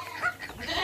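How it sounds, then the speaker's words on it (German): Goats bleat on a family farm in Egypt, a short nasal call close by against a faint outdoor background with no speech. "Die Ziegen, ey, die sind unmöglich."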